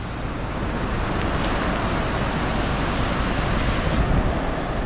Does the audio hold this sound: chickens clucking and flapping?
no